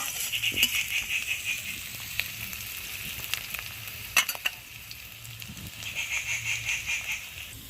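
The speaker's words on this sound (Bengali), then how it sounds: "পেঁয়াজটা ভাজা ভাজা হয়ে গেছে" Sliced onions sizzle steadily in a hot pan for a home-cooked Malabar spinach dish, with a continuous close frying hiss broken by a few sharp clinks and scrapes of stirring.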